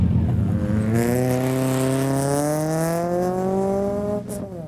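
A Ford rally car at a fast Ford show accelerates away, its engine note rising steadily through the revs before fading slightly at the end, loud and close.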